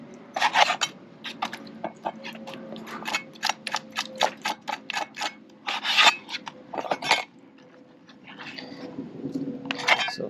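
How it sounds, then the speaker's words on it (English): A knife scraping membrane out of the cavity of a cleaned scup, a run of short rasping strokes in quick irregular rhythm, close and fairly quiet, tapering off into a softer rub near the end. "in there you can try and scrape it out as much as you can."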